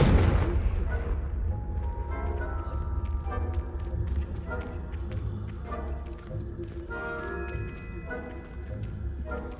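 Spell blasts and combat effects from a Hogwarts wizarding video game, with a low rumbling bed and repeated bursts and clatter running throughout, loud and busy, under a layer of game music or voices.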